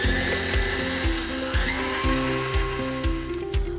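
An electric mixer with a whisk attachment whirs steadily while blending Chief brand vanilla essence into a batter, its motor pulsing in a regular rhythm about twice per second, close and moderately loud.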